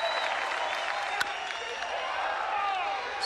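A crowd at a college baseball stadium, Texas against Wichita State, keeps up a steady roar of clapping and cheers, one sharp clap-like crack standing out, with voices blended into the noise.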